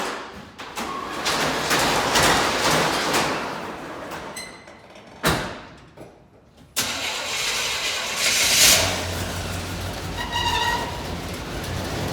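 A 1987 Chevy Suburban engine cranks and fires after its water pump replacement, then settles into a steady idle with a brief dropout and a restart-like surge partway through.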